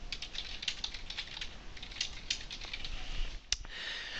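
Quiet rapid keystrokes patter on a computer keyboard in an irregular stream as a comment is typed, close but soft, with no voices.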